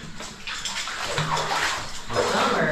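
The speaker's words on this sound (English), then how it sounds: "the water is just cranking through here" A cave stream pours and sloshes through a rocky passage under a hole in the woods, a steady, close rush of water with surging splashes and no talking.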